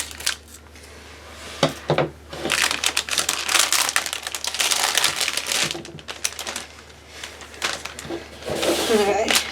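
Plastic packaging on Warhammer paint pots being cut open with scissors, producing dense crinkling, snipping and crackling close up, ongoing and busy throughout with a voice speaking over it.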